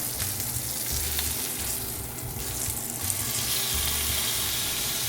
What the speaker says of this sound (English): Sear so the juice is sealed.